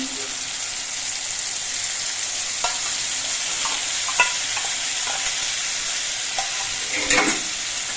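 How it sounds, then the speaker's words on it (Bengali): Loud, steady sizzle from a spice paste frying in oil with softened tomatoes in a pan, with occasional scrapes of a spoon and a brief burst of bubbling near the end. "এবার এর মধ্যে আমি গুলে নেওয়া মশলাটা দিয়ে দিচ্ছি"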